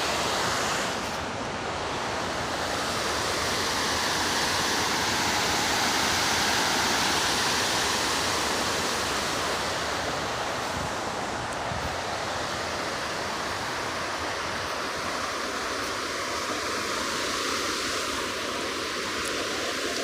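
A flooded river after heavy rain roars through an opened sluice gate. Loud, continuous broadband rushing and churning water fills the whole stretch, close and unbroken, with no voices.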